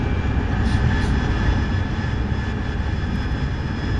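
Aircraft engines in a video game drone loud and steady with a constant tonal hum, near and continuous, with no talk.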